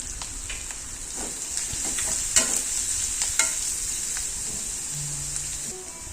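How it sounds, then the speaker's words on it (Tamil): Chopped onions and crushed garlic fry in a pan with mustard seeds, sizzling steadily while a utensil stirs and scrapes in a few sharp strokes, close and fairly quiet. "வெங்காயம் கட் பண்ணி வெங்காயம் போட்டிருக்கேன்"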